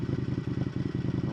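An Indian FTR 1200 S motorcycle idles up close with a deep, lumpy burble, its steady rapid pulses loud and uneven, with no one speaking.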